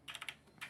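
Quick, light keystrokes on a computer keyboard, about six close taps in a short burst, quiet and without talk.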